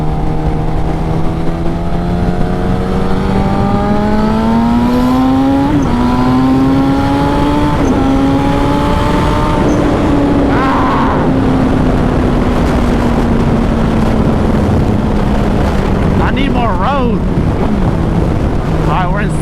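A turbocharged Suzuki GSXR 1000 motorcycle engine revs hard under boost in sixth gear, its loud tone sweeping upward through several rising pulls with brief dips between them, heard alongside strong wind rush throughout.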